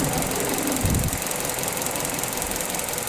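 A Mazda2 car engine running on hydrogen and running very warm idles steadily with a low knocking rumble, holding an even drone throughout with a brief heavier thump near the start.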